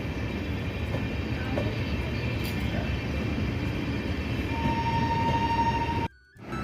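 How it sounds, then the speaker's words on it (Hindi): The Amrit Bharat Express runs on the Deoband-Roorkee line, a steady loud rumble of a passing train with rolling clatter. A faint tone enters near the end, then the sound cuts off sharply. "ये ट्रेन यहाँ से हर मंगलवार को होकर गुजरेगी"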